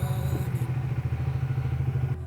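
A Triumph Speed 400 motorcycle, loaded with luggage for a long coastal ride, throbs with a steady low engine rumble as it sets off, its beat pulsing evenly and close throughout.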